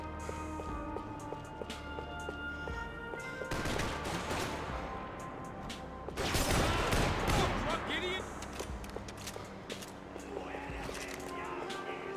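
Bursts of shotgun gunfire in a video game crack out amid steady game music, with a dense cluster of loud blasts midway and more shots later, while voices talk over the action.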